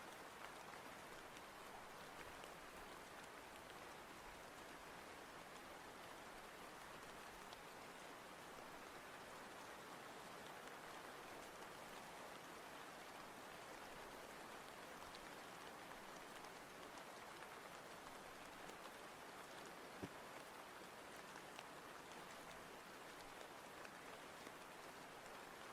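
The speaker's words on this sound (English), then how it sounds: "I always have rain sounds up" Steady rain sounds play softly as background ambiance for a coworking art stream: a constant, even hiss of rainfall with no breaks.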